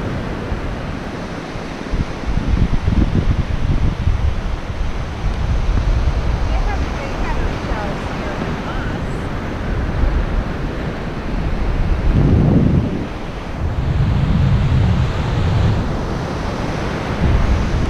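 Ocean surf on the beach at Jockey's Ridge State Park, North Carolina: a continuous broad wash of waves mixed with heavy wind buffeting the microphone, with occasional louder rumbling gusts, steady throughout.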